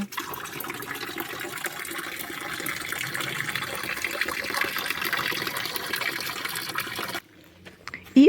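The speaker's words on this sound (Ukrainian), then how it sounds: "Чуєте водичка? Кажуть, це живильне джерело." Natural spring flowing in an autumn forest, a steady close trickling and babbling of water that cuts off abruptly near the end.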